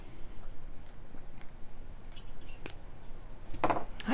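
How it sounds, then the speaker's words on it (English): Scissors snip jewelry wire while making earrings, a couple of faint, sharp cuts near the end of a quiet stretch with light background noise. "We'll make a snip here."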